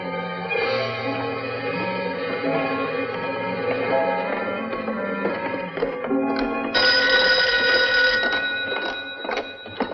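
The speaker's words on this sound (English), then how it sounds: "I'll answer the phone." A telephone bell rings in repeated bursts in an old radio drama, loud and clear with a slight echo, alone without any voices.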